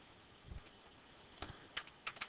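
Quiet keystrokes on a computer keyboard tap out a few words in irregular clusters, soft and close against a faint background hiss, with no talk.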